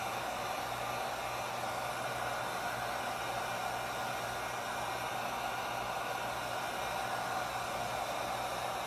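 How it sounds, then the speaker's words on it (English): A hair dryer blows steadily on a painted Dollar Tree surface, a constant close whooshing roar that runs the whole time without a break or any talk. "So let me dry this, because I'm going to have to turn it over."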